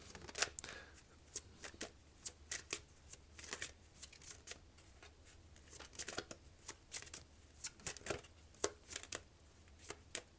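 A deck of tarot cards is shuffled in a series of crisp, quiet riffles and snaps, brief bursts repeating irregularly close by with no talk over them.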